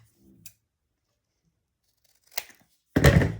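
Scissors snip through a paper rectangle to trim it to size, a faint small cut early on followed by a couple of louder, close crisp snips near the end, with no talking.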